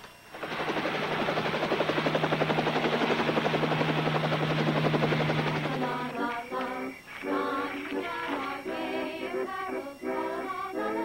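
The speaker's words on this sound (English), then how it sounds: "You better get me the helicopter." Helicopter heard nearby, a loud steady whine with a rapid rotor chop that later shifts into an uneven, choppier beating as it settles, with no talking over it.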